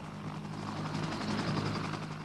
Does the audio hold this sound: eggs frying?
no